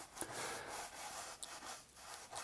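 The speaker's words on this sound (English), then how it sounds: "Just get some oil on your paint and let's just rub it in now." A brush rubbing oil paint into canvas, a soft continuous scrubbing with rhythmic back-and-forth strokes, close and fairly quiet with no talk.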